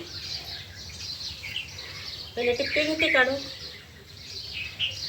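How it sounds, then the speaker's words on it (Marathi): Sparrows chirp faintly in the early morning around a home courtyard where rangoli is being drawn; someone talks briefly in the middle while the light twittering continues in the background. "सकाळ सकाळी इतका मस्त चिमण्यांचा आवाज येतो ना"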